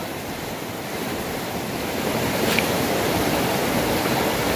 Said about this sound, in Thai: เป็นสายน้ำ น้ำไหลแรงมากแล้วใสมากอ่ะ